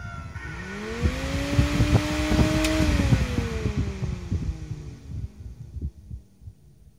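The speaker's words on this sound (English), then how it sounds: "We can hear this when we start the fan up." An Ebmpapst DV 6224 24V DC brushless fan starts up, its motor hum rising steadily in pitch and loudness as the blades spin up, then easing and fading with a rhythmic throbbing pulse beneath.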